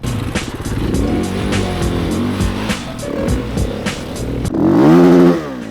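A motorcycle engine revs and sputters nearby, with uneven popping bursts from the exhaust and a sharp rising rev toward the end.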